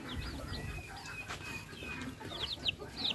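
Young chicks under a week old on a Philippine poultry farm, peeping in scattered high chirps over a low, steady background hum, fairly faint and with no voices.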